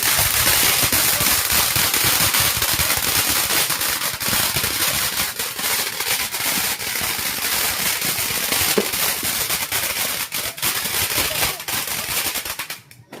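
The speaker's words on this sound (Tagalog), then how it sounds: "Fireworks" Dense, continuous crackling and popping of New Year fireworks going off, loud and close, with bursts overlapping for the whole stretch.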